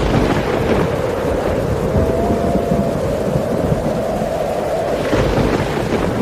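Heavy rain pours steadily over a flooded village of bamboo houses and fields while thunder rumbles low throughout, swelling near the start and end, with no voices.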